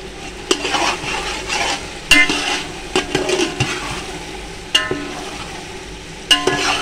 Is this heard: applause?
no